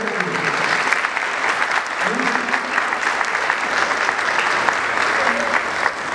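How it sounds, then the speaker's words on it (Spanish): Applause at a kindergarten graduation ceremony, a steady burst of many hands clapping together that holds evenly for several seconds, with a voice speaking faintly underneath. "dense un aplauso a ustedes mismos porque ustedes son los más importantes"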